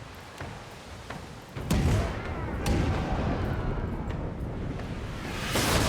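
Naval cannon fire in the Pillars of Eternity 2: Deadfire game, with booming shots at several points over a continuous rumbling, windy bed of battle noise and a heavier blast near the end.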